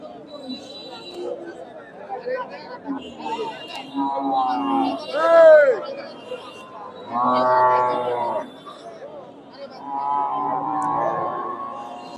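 Cattle low several times at a busy outdoor cattle market in Bogura, Bangladesh, their moos rising over a steady murmur of people talking nearby.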